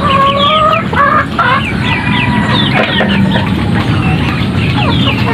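Several chickens cluck loudly and close by in a busy, continuous chorus of overlapping calls, with a rooster-like crow mixed in, during rough monsoon weather.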